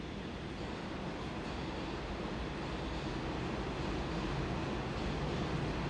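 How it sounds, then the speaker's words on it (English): A train passes nearby, producing a steady broadband rumble and rush that holds at a constant, fairly loud level throughout, with no talking. "Oh, the train too."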